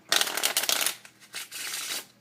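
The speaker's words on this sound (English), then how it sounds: "I just want to let you guys know this is a real shuffle" A deck of playing cards being shuffled close up: a dense riffling burst followed by a couple of shorter ruffles, crisp and papery, with no talking.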